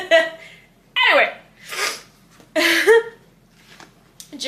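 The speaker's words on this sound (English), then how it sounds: "I gotta sneeze." A single person's sneeze with a sharp inhaled build-up and a burst, surrounded by short breathy vocal sounds and gasps, close and fairly loud.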